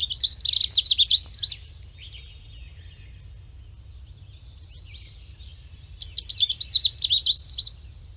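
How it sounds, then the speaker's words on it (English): Canada warbler song: two bursts of rapid, jumbled high chirps and warbles, each about a second and a half long, separated by a quiet gap over a low background hum. "So we're going to choose the Canada warbler."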